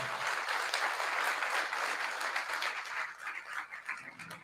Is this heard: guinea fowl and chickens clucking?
no